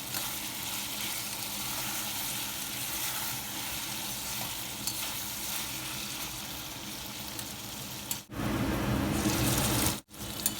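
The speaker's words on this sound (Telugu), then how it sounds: "ఈ గుమ్మకాయ ముక్కల్ని ఈ విధంగా కొంచెం సాఫ్ట్ అయ్యేలాగా ఆయిల్లో ఫ్రై అనిద్దాము" Pumpkin pieces frying in oil with tomato pieces added, a steady loud sizzle close to the pan throughout, interrupted by two brief breaks near the end as the sizzle flares back.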